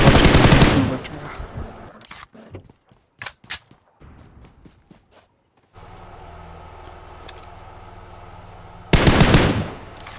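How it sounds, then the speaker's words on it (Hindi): PUBG gunfire from a video game on an iPad mini 5: a loud burst of automatic fire opens, then scattered single shots and short bursts, a steady hum, and another loud burst near the end. "यहाँ से एक और बंदे की फायर की आवाज़ आई थी"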